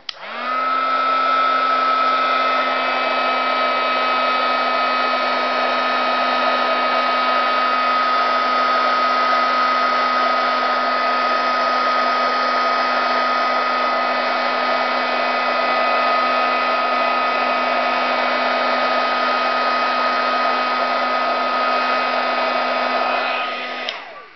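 A heat tool blows steadily to melt embossing powder on a stamped image, giving one continuous, even whir with a strong tonal hum that starts abruptly, holds for over twenty seconds and then cuts off.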